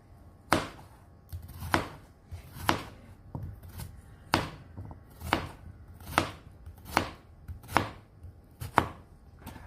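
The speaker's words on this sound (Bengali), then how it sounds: "আমি এটাকে স্লাইস করে নিব খুব সুন্দরভাবে" A knife slices through food on a board in about ten crisp, evenly spaced cuts, each one a sharp close-up tap with quiet pauses between.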